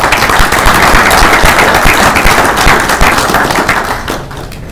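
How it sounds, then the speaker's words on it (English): An audience at a cybersecurity conference keynote applauds loudly and close, with a thick burst of clapping that holds steady and then tapers off near the end. "let's give him a round of applause"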